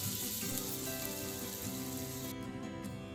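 Unsalted butter melting in hot oil in a pan for pan-fried salmon, giving a soft, steady hiss and crackle of sizzling with no talking.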